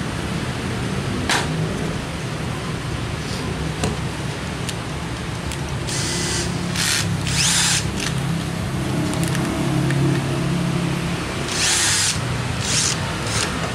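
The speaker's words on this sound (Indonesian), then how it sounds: "Jadi ini agak susah karena kita pakai bor tangan manual." Harsh, grinding drilling of metal with a manual hand drill and 4.2 mm bit, steady and continuous, with sharp bursts of scraping noise in stretches, close by and loud.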